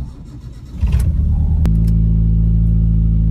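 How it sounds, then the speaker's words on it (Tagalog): A car engine that overheats on long drives makes a cold start: a short cranking burst, a sharp catch, then a loud, steady idle that rumbles on alone. "Ipakita ko pa sa inyo kapag in-start ko yung sasakyan na walang kaproblema-problema."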